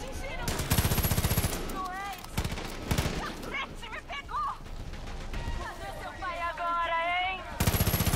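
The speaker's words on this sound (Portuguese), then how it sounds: "É muito tiro." Heavy automatic gunfire from the video game Far Cry 5 comes in loud bursts, then gives way to someone talking over music and game effects before another burst of shots at the end.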